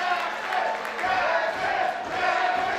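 A wrestling crowd at a live match roars and cheers in a steady, dense wall of voices, swelling slightly in waves and filling the whole clip without clear individual speech.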